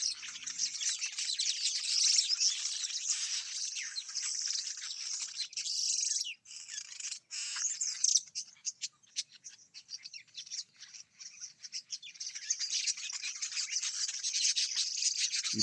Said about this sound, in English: I found some birds here chirping. I want you to listen.